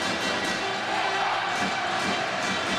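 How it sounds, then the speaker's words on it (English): Ice hockey fans of both the Telford Tigers and Sheffield Steeldogs cheer loudly in an indoor arena late in a game, a dense, sustained crowd roar with rising swells of shouting throughout. "Both sets of fans are cheering on their players"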